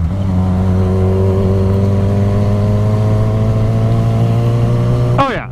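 A Yamaha FZ6R motorcycle engine revs steadily higher and louder for several seconds, then drops abruptly as it shifts gears near the end.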